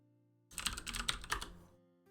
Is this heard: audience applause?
no